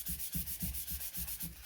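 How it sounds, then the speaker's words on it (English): Soft, quiet rubbing across foiled, heat-embossed cardstock to lift ink off the foil, a steady back-and-forth scrubbing in about six even strokes at close range. "The foil just resists the ink and you can rub it off"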